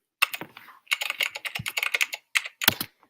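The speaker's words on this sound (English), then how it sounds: "So I'm going to take computer keyboard." Keyboard typing on a computer keyboard, bursts of rapid close key clicks separated by short pauses, crisp and fairly quiet with no talk.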